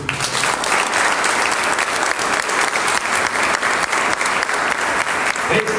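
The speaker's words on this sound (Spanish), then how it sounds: "Denle un aplauso al Señor." Steady applause from a church congregation during a Spanish-language sermon, a dense wash of many hands clapping that holds loud and even for the whole stretch, with no voice over it.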